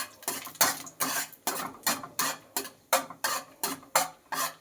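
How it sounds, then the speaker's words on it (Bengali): A spoon stirs crushed cardamom in ghee, making a regular run of about a dozen metallic scrapes and knocks against the pan. The steady rhythm is close and clear, with a faint sizzle underneath. "এইবার এলাচটা একটু নাড়াচাড়া করে নেব।"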